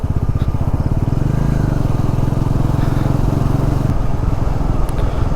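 A motorcycle rides along a road near Diktel Bazar with a loud, steady engine drone and rapid exhaust pulsing close by that eases slightly near the end, with no one talking over it.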